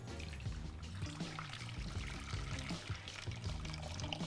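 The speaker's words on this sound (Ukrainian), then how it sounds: "зливаємо цю воду назад вже до сотейничку" Water poured steadily back into a saucepan, a continuous splashing trickle with faint low clinks, close by and without speech.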